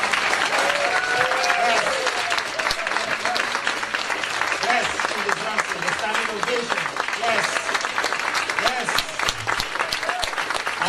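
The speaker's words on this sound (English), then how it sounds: "Let's give a round of applause, please." An audience at the 2016 African Diaspora Investment Symposium applauds in a dense, sustained burst of clapping that fills the room loudly throughout, with voices mixed in.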